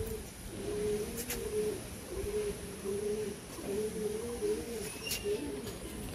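Madrasi long-distance racing pigeons coo in repeated low, throaty phrases, close and steady, with a few faint chirps in the background.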